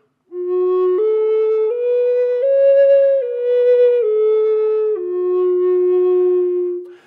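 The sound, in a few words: Native American flute melody played with connected notes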